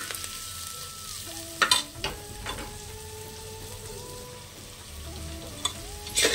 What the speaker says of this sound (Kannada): ಇವಾಗ ಇದೊಂದು ಸ್ವಲ್ಪ ಫ್ರೈ ಆಯಿತು ಕ್ಯಾರೆಟ್ ಬೀನ್ಸ್ ಎಲ್ಲ